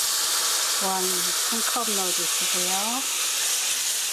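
Cold water hitting golden pan-toasted flour in a hot pan gives a steady loud sizzle and hiss that runs throughout, with a person talking over it.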